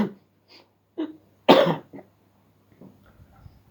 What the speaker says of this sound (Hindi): कभी कभी खांसी आ जाती है।